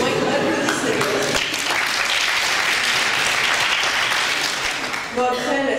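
Audience applause fills a school public-speaking contest hall, dense steady clapping sustained throughout with some voices mixed in, easing slightly near the end.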